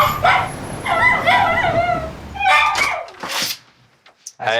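Small dog at a vet clinic with a heart condition, yapping and whining in short excited bursts followed by a quick sneeze-like snort and faint squeaks, close by with no speech.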